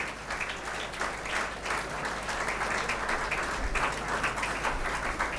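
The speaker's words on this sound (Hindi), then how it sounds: "जो आप लोग ताली बजाते रहिए।" An audience at a motivational youth seminar in Begusarai, Bihar, keeps up steady, dense applause, many hands clapping at once in a continuous, fairly loud wash without a break.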